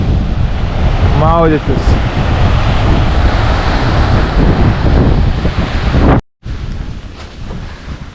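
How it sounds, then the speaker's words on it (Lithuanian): Big ocean waves surging on an island shore in Thailand, a loud constant roar buffeted by heavy wind on the microphone, with a brief voice early on and a short cut near the end. "Tikrai per didelės bangos čia"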